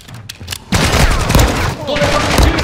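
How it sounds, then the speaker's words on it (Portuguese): Rapid bursts of gunfire erupt in a Warzone DMZ match, loud and close, after a quieter opening, with a voice talking over the shooting. "Tô levando o tiro!"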